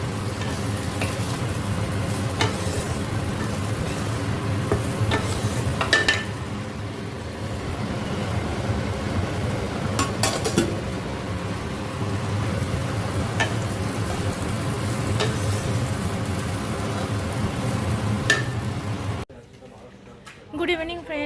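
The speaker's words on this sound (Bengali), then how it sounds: "তো এখন এখানে করছি ফুলকপি আলুর তরকারি, আর এখানে করে উচ্ছে আলু ভাজা" Bitter gourd and potatoes frying in a pan with a steady, continuous sizzle and occasional clinks of stirring, while someone talks over it; the sizzle cuts out abruptly near the end.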